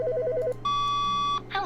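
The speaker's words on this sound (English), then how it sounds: "There's a phone going." A phone goes off in The Stanley Parable, a short warbling ring burst followed by a sustained steady electronic tone and a brief cluster of higher beeps, clear and close with no talking.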